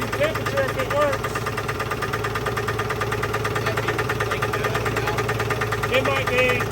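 A 1983 GMC S15 Jimmy with a 2.8 engine runs at idle after sitting forgotten, making a steady, close mechanical clatter with a rhythmic ticking knock, while people talk over it.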